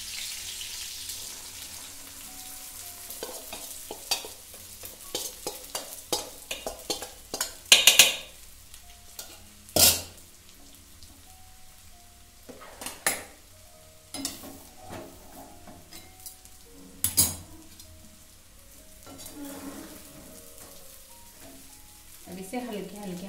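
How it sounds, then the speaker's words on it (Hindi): Sabudana (sago pearls) is stirred and roasted in a pan, with scattered scraping and clattering strokes over a faint background sizzle, some louder clustered knocks, and long quieter gaps between them. "से हल्के हल्के हाथों से भुनेंगे हम।"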